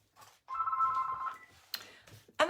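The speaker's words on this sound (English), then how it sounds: "I'm just going to get the phone." A telephone rings with a steady electronic trill that lasts under a second, followed by a short clatter and another bright burst, close and fairly loud in a quiet room.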